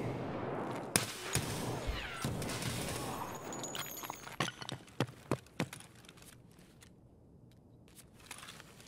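Gunshots in the shooter game Escape from Tarkov: a run of sharp, loud reports, several fired in a quick spaced burst near the middle, ringing close over a steady game background.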